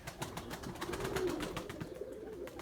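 Erzurum white pigeons in flight, a rapid run of wing claps and flutters close by, with a few soft coos mixed in and no talking.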